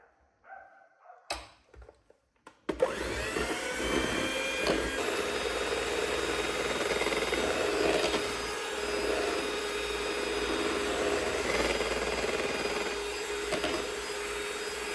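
Electric mixer beating sour cream into cake batter in a bowl, a steady close whirring drone that starts after a few soft knocks and runs on without a break.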